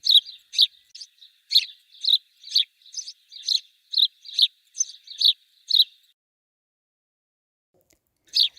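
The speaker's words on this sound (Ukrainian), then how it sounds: "Це співає горобець." A house sparrow chirps in quick, bright repeated notes for several seconds, pauses, then gives one more chirp; clear and alone.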